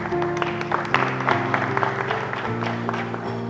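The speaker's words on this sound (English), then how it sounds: "Can we clap for them?" Clapping from a crowd at a school prom, a steady spread of hand claps with music playing underneath.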